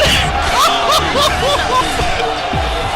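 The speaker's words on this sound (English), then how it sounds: "The crowd is going nuts!" A loud crowd roars and cheers in the stands at a varsity hockey game, a dense excited babble with shouts rising over it.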